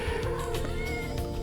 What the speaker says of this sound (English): That's my cat again.